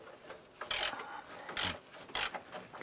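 A 1/2-inch-drive ratchet with a 13mm socket works on transmission mount bolts of a 2001–2007 Ford Escape, giving three short bursts of quiet ratcheting clicks spaced less than a second apart.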